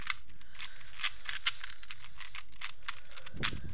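A 2x2 Rubik's Cube being scrambled by hand, a series of close, crisp plastic clicks and clacks from quick turns, irregular and fairly quiet, with no talking.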